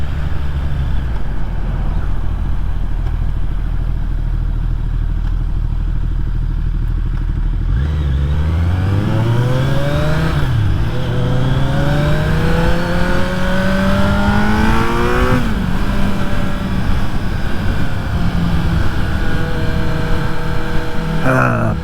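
A motorcycle fitted with a slip-on exhaust pipe idles loudly, then revs up and shifts through rising and falling engine sweeps, a close, continuous roar with some wind noise.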